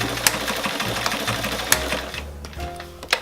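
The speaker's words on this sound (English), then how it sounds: "And right on my chalk line, I'm going to do a couple stitches." A sewing machine runs a short burst of stitches through fabric to secure a corset busk, its rapid mechanical whirr and needle clatter close and loud, with a few clicks as it stops and starts.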